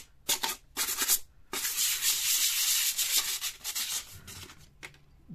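Hand sanding of a handmade lightsaber hilt to rough up its surface for weathering, heard as close, loud scratchy rubbing strokes in short bursts followed by a longer sustained stretch of abrasive scrubbing.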